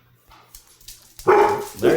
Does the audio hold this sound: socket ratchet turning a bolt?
no